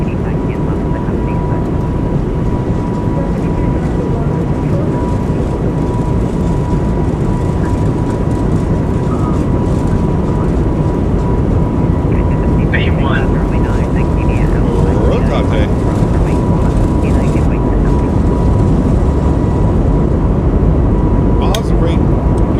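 Airbus A220 airliner engines spool up and roar steadily through the takeoff roll, a loud continuous drone heard from inside the cockpit with brief radio and pilot chatter over it.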